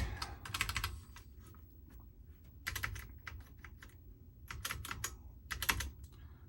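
Keys clatter on a Commodore SX-64 keyboard under repair, with bursts of quick typing and short pauses between them, close up and fairly quiet.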